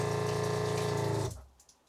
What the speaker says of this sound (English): I open the kitchen tap.